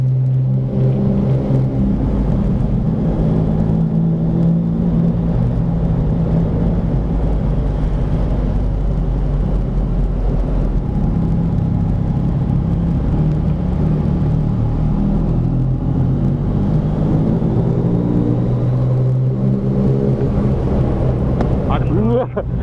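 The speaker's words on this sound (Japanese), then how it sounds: "あ、車来た" A steady low engine rumble of a car approaching and passing on a soaking-wet road, with wet road hiss, heard over Yamaha MT-09 motorcycle engine noise and occasional talk.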